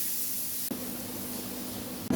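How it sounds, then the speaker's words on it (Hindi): Milk hitting a hot pan of oil and lightly fried flour while making white sauce, a loud steady hiss and sizzle throughout with a short break and renewed burst near the end. "इसमें दूध डाल देंगे।"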